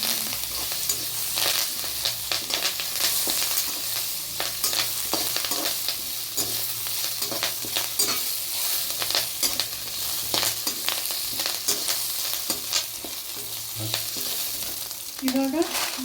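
Curry leaves and chillies fry in hot oil, crackling and sizzling steadily with scattered sharp pops and stirring scrapes, close and loud for the whole stretch.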